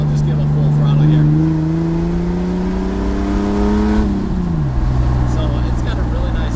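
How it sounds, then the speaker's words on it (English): A straight-piped Jeep engine is revved to full throttle with the roof off. The engine climbs steadily in pitch over several seconds, holds, then drops back to idle, loud and close. "I'll just give a full throttle here."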